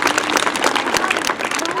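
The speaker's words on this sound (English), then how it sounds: "Let's give them a round of applause." Outdoor crowd at a historic fort event applauding visiting pioneer reenactors, steady clapping throughout at moderate level, with a voice talking over it.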